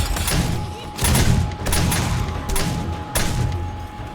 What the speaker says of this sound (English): Oh no no! He's going to explode.